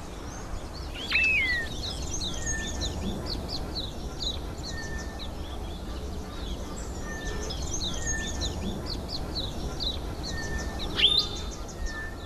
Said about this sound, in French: le chant des oiseaux